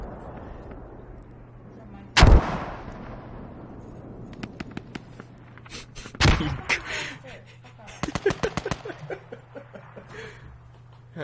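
Mortar rounds fire in the Squad video game, with two sharp, heavy launches a few seconds apart followed by a flurry of lighter bangs and clatter, set against a low steady hum.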